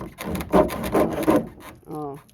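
Rhythmic back-and-forth rasping strokes of an all-purpose hand saw cutting through pipe, close and moderately loud, followed by a brief voice.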